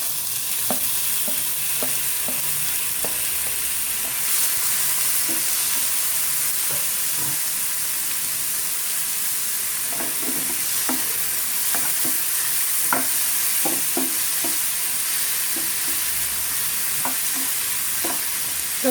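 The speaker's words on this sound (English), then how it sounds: "Saute until the tomatoes become very soft" Chopped tomatoes sautéing in a pan with ginger garlic for chicken keema masala, a steady sizzle and frying hiss with occasional scrapes and clinks of a stirring spoon, close and continuous with no talking.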